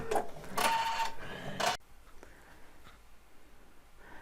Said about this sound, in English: So let's do the little scallops that go up each side of the ladder.